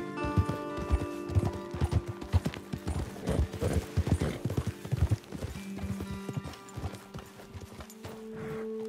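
Horses' hooves clop at a steady riding gait in the open country of Red Dead Redemption 2, close and rhythmic, slowing toward the end with faint ambient hum and no talk.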